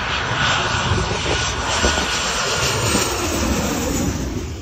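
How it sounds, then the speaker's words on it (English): A low, steady airplane engine roar fills the air as a plane passes close overhead coming in to land at Phuket, loud and continuous throughout. "those are the people waiting for the plane to land"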